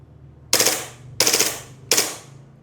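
Airsoft gun on full auto, three short rattling bursts about two-thirds of a second apart, crisp and close, each one cutting off quickly with no talking.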